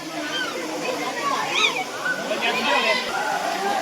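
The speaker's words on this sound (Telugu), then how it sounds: "ఇదే వాటర్ ఫాల్స్ టోటలీ. ఇంకా హైట్ ఉంది పైన, ఇంకా పైన నుంచి పడుతుంది." The Penchalakona waterfall makes a continuous broadband rush of falling water that fills the scene, with voices chattering nearby over the flow.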